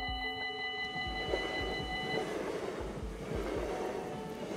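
A train rolls past with a steady rhythmic clatter of wheels over track joints, accompanied by a sustained tonal whine at the start.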